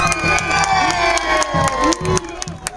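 Crowd at a Roma rights rally outside Parliament cheers and shouts with scattered clapping, lively bursts of voices rising and falling over a short stretch.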